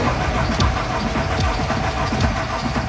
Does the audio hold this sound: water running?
no